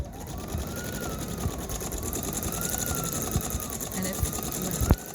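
A Designer Brilliance 80 sewing machine running quilting stitches, a steady fast mechanical whir and rapid needle chatter held close and continuous, ending in a brief sharp click.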